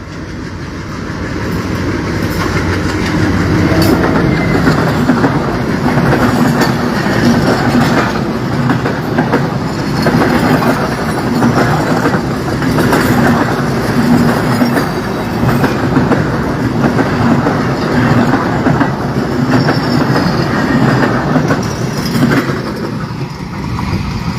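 The Rupsha Express passes Raninagar railway station at speed, its loud roar and rhythmic clickety-clack of wheels building and holding steady, heavy and close for the whole stretch.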